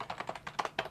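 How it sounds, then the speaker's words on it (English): Computer keyboard typing by the novelist Anne Rice: a quick, irregular run of about ten close, soft key clicks in one second, with no voices. "See, it is Ann Rice typing"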